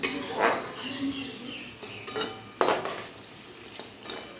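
Fried cashews and raisins scooped from a pan of hot oil, with scattered metallic clinks and scrapes of a utensil against cookware over a faint background hiss.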